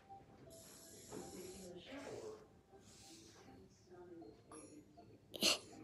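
Short bursts of hissing from a spray can, several in a row, with a louder blast near the end, while a person talks quietly.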